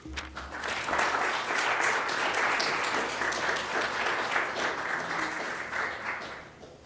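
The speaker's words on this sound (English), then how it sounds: "So if you join me in giving a warm round of applause to welcome Florian to the stage" An audience applauds to welcome a speaker to the stage at a lecture hall talk, steady dense clapping from a crowd that holds for several seconds before slowly thinning.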